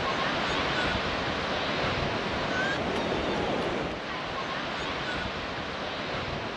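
Surf rolling onto Montrose Beach in Scotland, a continuous broadband wash of breaking waves mixed with buffeting wind on the microphone, steady and fairly loud, dipping slightly partway through, with a voice faintly present.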